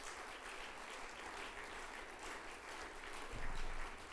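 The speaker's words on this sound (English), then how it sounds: "Please, could we have a round of applause for them?" Audience applause at an awards ceremony, a dense even clapping from a crowd sustained throughout, swelling briefly louder near the end.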